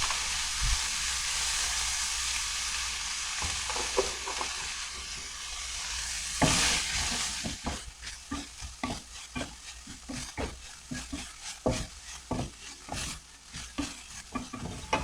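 Bitter melon stir fry cooks on medium heat in a pan, first as a steady hiss, then as a closer sizzle broken by rhythmic scraping and stirring strokes.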